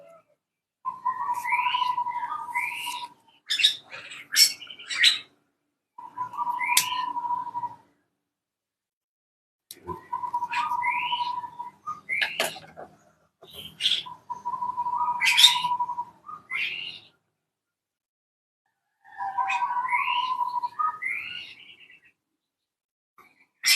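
Aviary birds chirp and squawk in repeated bursts separated by short silences, sharp high calls over a clear whistled tone, fairly close.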